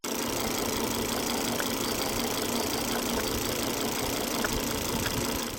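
A petrol Volvo engine idles steadily nearby, a constant low rumble with a faint rhythmic ticking and no voices.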